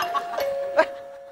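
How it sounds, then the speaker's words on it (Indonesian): A doorbell chimes with a steady ringing tone through the clip, moderately loud indoors, with brief voices and sounds breaking in over it. "Ada bel. Ada bel."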